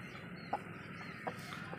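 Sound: chicken clucking

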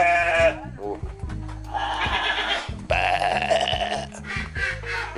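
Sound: goats bleating at a resort animal pen

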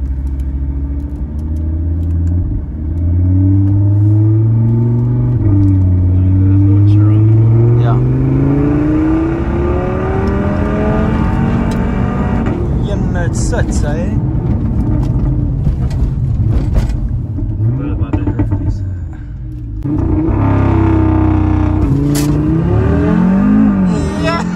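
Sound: tuned Audi RS3 accelerating with brutal gear shifts in sport mode

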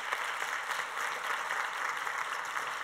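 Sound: audience applause for panel

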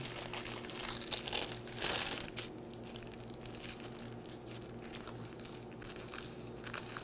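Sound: paper being torn

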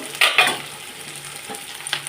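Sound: onions frying and being stirred in oil

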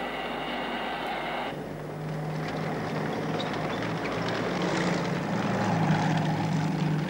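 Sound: engine running

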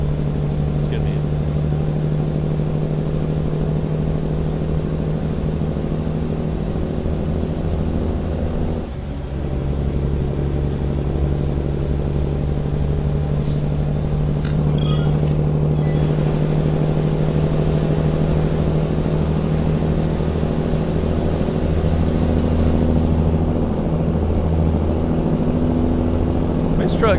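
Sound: Peterbilt truck engine running

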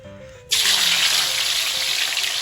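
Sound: tilapia fish frying in a little oil

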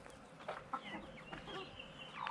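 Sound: chickens clucking

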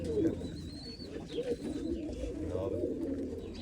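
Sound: Mecidiye pigeons cooing

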